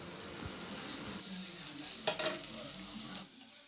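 Chopped ginger, garlic, shallots and green chillies sizzle steadily in a hot pan with oil for a fish curry, with a few brief stirring scrapes partway through, close and moderately loud with no talking.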